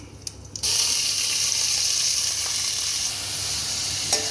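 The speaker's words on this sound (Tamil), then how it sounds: "இது எல்லாத்தையும் நல்லா ஃப்ரை பண்ணிக்கலாம்" Sliced onions and tomatoes for capsicum rice hit a hot pan with a sudden burst of loud, hissing sizzle. The frying then continues steadily and close by, with a faint clink near the end.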